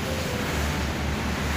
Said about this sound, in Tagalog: Ang lakas ng hangin dito. Tsaka ulan.